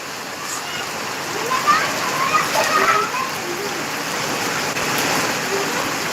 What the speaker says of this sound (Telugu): వర్షం చూడండి ఎలా పడుతుందో